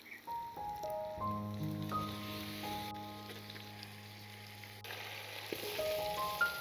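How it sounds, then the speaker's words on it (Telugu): Washed chicken frying in hot oil with ginger garlic paste for an Andhra village-style haleem, a steady soft sizzle running under tonal background music. "ఇప్పుడు ఈ కడిగి పెట్టుకున్న చికెన్ ఇందులో వేసేసుకుందాం."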